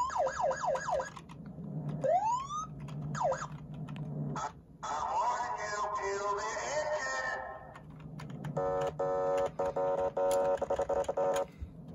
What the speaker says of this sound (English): And then, we have sirens.